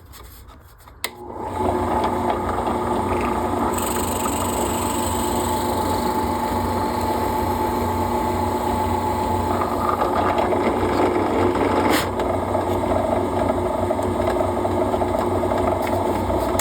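A $30 Chinese benchtop drill press runs steadily while drilling holes in a homemade bass guitar pickup, giving a continuous rasping, whirring grind from a brief start through to the end, with no talking.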